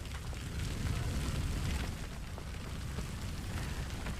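Flames of a burning pyre in the Hogwarts Legacy game roar as a low, rumbling, crackling fire, steady and fairly quiet with no speech.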